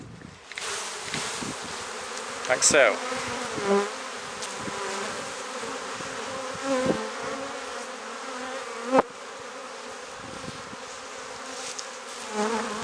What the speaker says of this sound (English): the bees tend to get a little more agitated